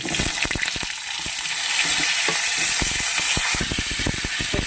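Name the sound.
tempering spices frying in oil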